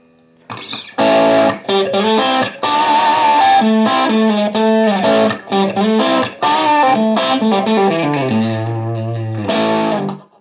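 Loud distorted electric guitar through a Suhr Reactive Load box playing a riff with sustained chords and quick changes, ending on a descending bend, heard alone.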